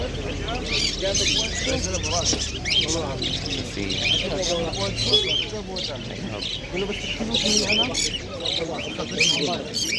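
Many birds squawk, chirp and quack at once in a dense, busy chorus at a bird market in downtown Amman, Jordan, with people talking nearby among the constant calls.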